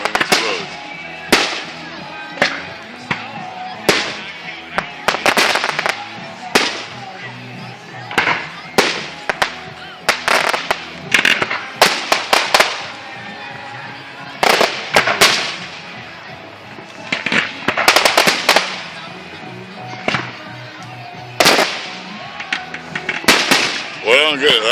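Fireworks bursting at an outdoor event, with sharp repeated booms and crackling pops at irregular intervals, some preceded by whistles, loud and close, with people talking faintly in between.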